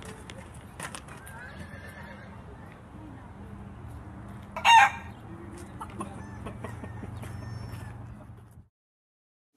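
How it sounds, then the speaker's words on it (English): Chicken clucking over a low rumbling background, joined by horse whinnies and a brief loud burst near the middle, with faint voices mixed in. "Chicken."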